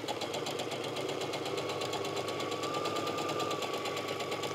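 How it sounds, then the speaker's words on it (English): Sewing machine stitching a pinned seam along fabric folded in half to form a sleeve tube, a steady rapid mechanical whir with fine needle rhythm running continuously and close, no talk. "So I'm just going to line this up and get that seam sewn."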